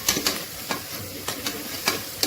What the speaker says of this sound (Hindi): इसे पहले अच्छे से भून लूंगी थोड़ी देर।